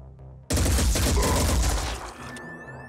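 A heavy mech unleashes sustained gunfire in the video game Blood and Titanium: a loud, abrupt onset of rapid booming shots lasting about a second and a half, then fading into electronic whines.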